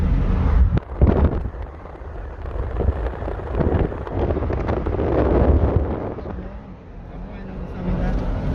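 Wind buffets and roars through an open car window while driving on Palisadoes Road toward the airport in Kingston, a loud continuous rumble with gusty swells, heard alongside road noise.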